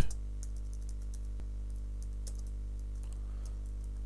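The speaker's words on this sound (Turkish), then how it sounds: "Daha sonra projemin ismini yazıyorum." Someone types a project name on a computer keyboard, with steady, quick clicking keystrokes over a constant low electrical hum, close and moderately quiet, with no talking.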